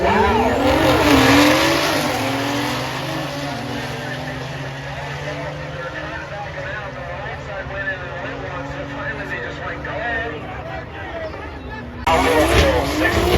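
A Toyota Supra A90 with a B58 engine launches down a drag strip at a racing event, its engine roaring loudly and sweeping through revs as it pulls away, with an announcer talking over it throughout.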